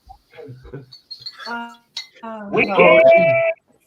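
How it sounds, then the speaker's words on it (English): Glass bottles clink together in the background, a bright ringing chink rising near the end over talk and household noise. "I can hear bottles clinking in the background."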